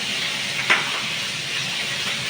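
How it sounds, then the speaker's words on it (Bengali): Fish frying in a pan for a Bengali prawn and banana flower dish, a steady even sizzle and hiss throughout with one brief crackle, close and with no talk. "মাছগুলো ভেজে নিই।"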